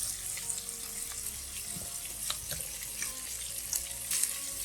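Creamy shrimp and grits simmering in a pan over medium heat, a soft steady bubbling and light sizzle with small pops, fairly quiet and close, no talking.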